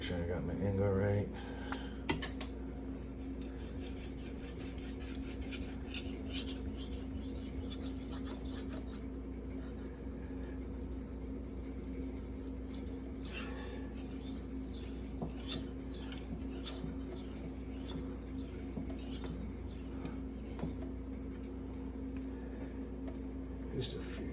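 Steel knife edge being worked on a Venev resin-bonded diamond finishing stone, a soft steady rasping scrape of repeated strokes continuing throughout, close and fairly quiet over a low constant hum.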